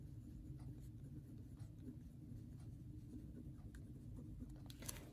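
Pen writing in a paper planner, a soft continuous scratching of strokes close by, with faint light taps and rustles and no talk.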